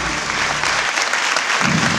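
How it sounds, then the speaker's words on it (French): A crowd applauds a family at a Christmas show featuring Lara Fabian, the clapping dense, loud and steady throughout. "je propose qu'on applaudisse encore une fois la famille"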